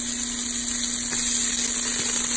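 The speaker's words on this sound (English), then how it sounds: "Ooh, that nice sizzle" Chopped carrots, celery and onions hit a hot pot for corn chowder, giving a steady, close frying sizzle and hiss that holds evenly throughout with no voices.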